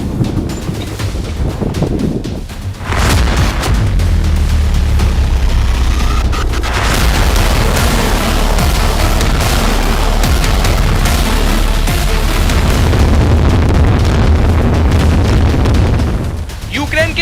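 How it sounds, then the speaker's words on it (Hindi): Explosions from TOS-1 multiple rocket launcher attacks, heavy booming blasts that roll into a sustained loud rumble with wind buffeting the microphone, and a voice speaks over part of it. "रूसी सेना TOS-1 मल्टीपल रॉकेट लॉन्चर से हमले कर रही है"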